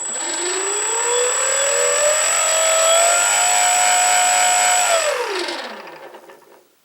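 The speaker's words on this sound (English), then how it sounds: "let's give this a motor test" An electric motor on an E-flite P-47 Thunderbolt RC warbird runs up to a high whine, holds steady with a slightly rough, rubbing edge, then spins down and fades out.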